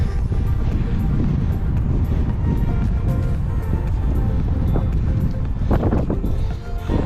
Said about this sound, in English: because it's so windy, there's probably not a whole lot of point in talking to the camera